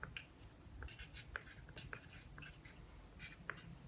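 An equation being written out by hand, a quiet scratchy stroking of the pen or pencil on paper in short irregular bursts, close and faint, with soft breathy sounds underneath.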